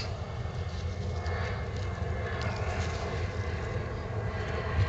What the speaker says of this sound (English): Boy, that's a low jet. Look at this airplane